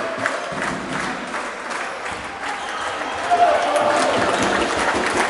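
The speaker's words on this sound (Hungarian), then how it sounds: "A cegédi közönség pedig felállva ünnepli a csapatát." A home crowd in Cegléd stands and applauds its basketball team late in a lopsided game, with steady arena clapping and cheering swelling slightly toward the end, under a commentator's voice.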